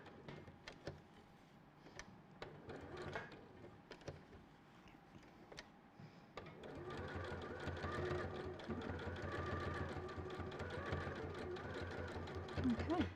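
A sewing machine stitches raw edge appliqué on a quilt in matching thread, starting with scattered short bursts, then running in a steady continuous whir for the second half, with a brief spoken word early on.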